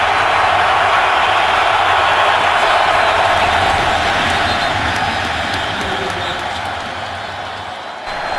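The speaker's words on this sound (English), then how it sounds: "This crowd is loud" A packed football stadium crowd roars steadily at a Green Bay Packers home game against the Pittsburgh Steelers, a loud, dense wall of noise that eases slightly toward the end.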